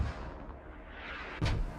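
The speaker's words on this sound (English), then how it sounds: "Mortars here are getting much more on target." Mortar fire in a military video game: low rumbling booms in the distance, then one sharper, louder impact near the end.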